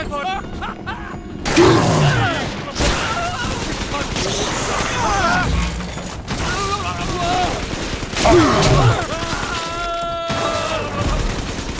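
Gunfire and battle noise in BioShock 2 on PS4, dense bursts of rapid shots and crashes over a loud, busy soundscape, with shouting voices mixed in.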